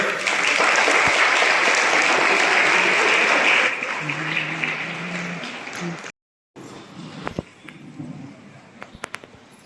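A congregation claps during a church wedding mass, with loud, full applause for several seconds that then thins to scattered quieter clapping, a brief silence and a few sharp knocks and clicks.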